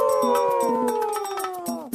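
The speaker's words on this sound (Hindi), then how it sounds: "फिर उन लोमड़ियों के झुंड ने नए राजा का अभिवादन करने के लिए एक साथ आवाज लगाना शुरू किया।" A cartoon pack of foxes howls together, several long wavering voices sliding downward in pitch and overlapping with short yips, loud and close for about two seconds.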